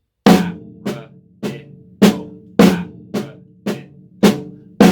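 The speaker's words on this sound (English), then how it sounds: "We're going to put an accent at the start of each paradiddle," Accented paradiddles on a snare drum, a crisp close rhythm of strong accented strokes alternating with softer taps, each sticking group opening with a louder hit, played alone.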